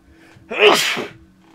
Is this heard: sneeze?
yes